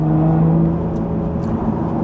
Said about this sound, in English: The engine note is good. It could be louder from the factory.